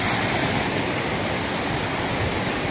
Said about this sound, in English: Absolutely beautiful little stream.